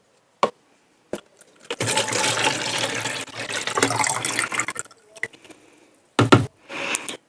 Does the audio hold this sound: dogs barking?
no